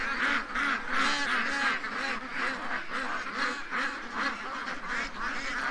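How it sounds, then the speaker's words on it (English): A flock of ducks quacking loudly and continuously, overlapping calls in a rapid, agitated rhythm, close by. "the ducks are really getting worked up here"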